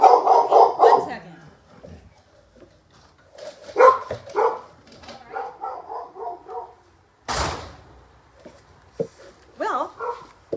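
Dogs bark in loud bursts at first, then keep up scattered yips and barks that trail off, with a sharp close noise partway through, while someone talks over them.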